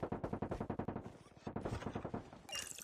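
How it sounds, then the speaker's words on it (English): Rapid automatic gunfire in the mobile shooter game Call of Duty Mobile during a tournament match, sharp bursts of rhythmic shots rattling in quick succession, fairly faint, with a brief different burst at the end. "I'm hearing some gunshots right away"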